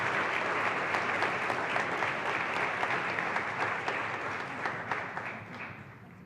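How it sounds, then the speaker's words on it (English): Sustained applause from the audience at a senior awards night fills the room, dense and steady, easing off slightly toward the end with no talk over it. "please welcome or give a round of applause for Lily Bachman."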